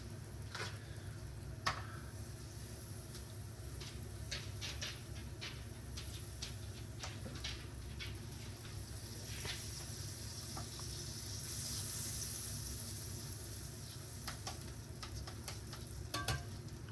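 A tortilla frying in butter in a pan gives a steady, even sizzle that runs throughout, with scattered soft pops and ticks rising above the hiss.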